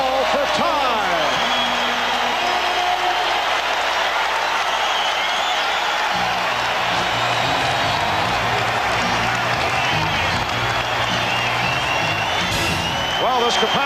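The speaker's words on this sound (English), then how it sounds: "capacity crowd reacting to the Cleveland Cavaliers, who come from behind, and they've tied the Bulls at 55" A capacity arena crowd roars at a 1992 NBA Eastern Conference Finals Game 6 as the Cleveland Cavaliers come from behind to tie the Chicago Bulls at 55. The roar is loud and sustained throughout, with a commentator talking over it.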